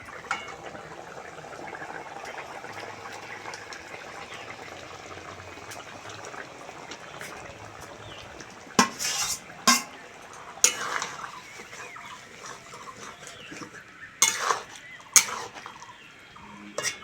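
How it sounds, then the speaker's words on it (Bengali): Fried cauliflower and potato pieces dropped into a pot of boiled chickpeas, with a soft bubbling simmer underneath and several sharp splashing thumps and clatters in the second half. "এবার ফুলকপি আর আলুটা দিয়ে দেবো। ভেজে রাখা ফুলকপি আর আলু দিয়ে দেবো।"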